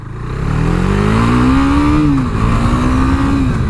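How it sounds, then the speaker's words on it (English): A KTM 390 Duke's small single-cylinder engine drones loudly up close, its pitch rising steadily as it revs, dipping briefly, then climbing again; no talking. "Sounds great as well, this little engine."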